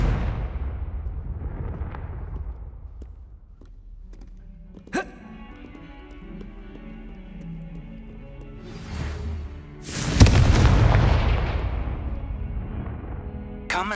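Confringo explosive fire spell cast in the game Hogwarts Legacy, a sharp crack followed later by a loud booming blast that decays slowly over several seconds, amid quieter rumbling game ambience, with no talk.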